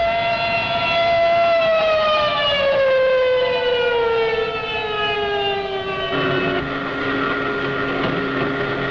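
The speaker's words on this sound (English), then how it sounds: "Alarm sirens wail over the German fighter fields" A loud World War II air raid siren wails steadily over German fighter airfields, its pitch slowly sliding downward, with a second siren tone joining near the end over a rumbling background.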